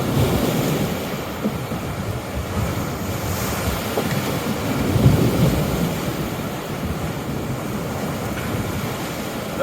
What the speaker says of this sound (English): Those are the biggest waves I've ever seen.